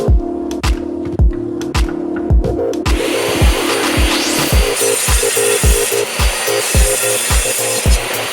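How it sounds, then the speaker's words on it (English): A saw cuts through 3/4-inch maple boards with a loud, steady, rhythmic rasp, close by and with no talk, its tone turning brighter and harsher partway through the cut. "I'm going to set my saw to 18 inches and do some of the first cuts"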